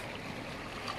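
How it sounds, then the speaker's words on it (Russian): A small stream on Iturup island, where fish gather in a crowded run, flows with a steady close babble of water over a brief stretch, no talking. "Вот такой маленький ручей."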